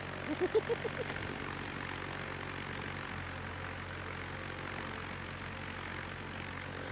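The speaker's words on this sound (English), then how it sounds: "this is really dumb that they have a propeller plane noise" A propeller aircraft engine drones in the World of Warships naval game, a steady low hum under constant background noise with a few brief pulsing bursts at the start.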